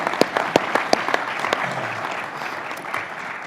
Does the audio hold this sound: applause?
yes